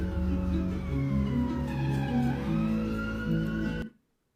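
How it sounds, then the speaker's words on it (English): A siren wails through a game, its rising and falling tone layered over sustained electronic notes before everything cuts off abruptly near the end. "There's a siren, but Elphaba didn't notice"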